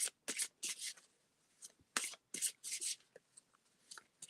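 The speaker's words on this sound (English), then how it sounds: "Let me pull another card now" Crystal oracle deck cards shuffled and drawn: crisp papery riffling bursts in irregular clusters with quiet gaps, close and clear.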